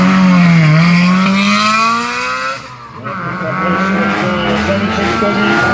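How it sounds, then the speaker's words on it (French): A Lotus Exige GT1-class race car at the 2018 Bettant hill climb start screams loudly nearby, its engine pitch dipping then climbing through gear changes, with a brief lull before it roars on up the course. "Lotus exige pour la catégorie GT1"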